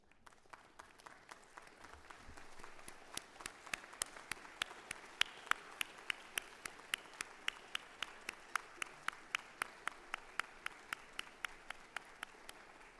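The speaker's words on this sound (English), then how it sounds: "I'd like to ask our grads to stand up and give all these people here a round of applause" Graduates at a university convocation ceremony clap in a growing round of applause, starting faint and building to dense, steady hand claps that fill the hall and carry on throughout.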